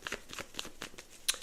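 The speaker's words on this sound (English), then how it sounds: "now let's go ahead and calibrate to your energies here with the cards as I shuffle" Tarot cards shuffled close by in a quiet room, a steady series of quick, crisp papery riffles and taps repeating about every fifth of a second, with one sharper snap near the end.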